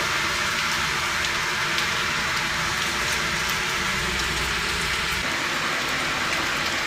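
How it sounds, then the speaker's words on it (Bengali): Heavy rain with large drops falls outdoors, a steady broadband patter on surfaces that carries on without a break throughout, close and fairly loud, with a low rumble underneath and no voices. "বাইরে এসে দেখি এরকম বড় বড় বৃষ্টির ফোঁটা পড়ছে"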